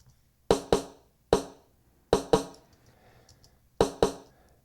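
A snare drum is struck alone in a loose pattern of six sharp hits, some in quick pairs, crisp and close with short decays.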